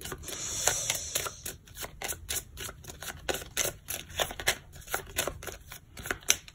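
An Arcana of Astrology tarot deck is shuffled up close, the cards giving a quick run of crisp papery flicks and riffles in an uneven rhythm, with no one speaking.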